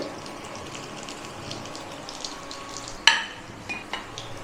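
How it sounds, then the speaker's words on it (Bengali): Aloo samosas fry in hot oil with a steady, close crackling sizzle, broken once by a sharp utensil clink and a few fainter taps. "এটাও গোল্ডেন কালার করে ভেজে নেব"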